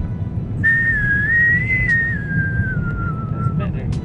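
A person whistles a single long, wavering tone that drifts slowly down in pitch for about three seconds, heard over a steady murmur of background noise.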